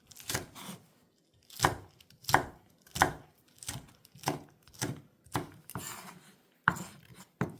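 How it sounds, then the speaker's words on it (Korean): A knife cuts green and red chilies into large pieces on a cutting board, giving about a dozen distinct, close thuds at an uneven pace with short pauses between them. "얘는 너무 쫑쫑 안 썰고 좀 큼직하게 썰게요"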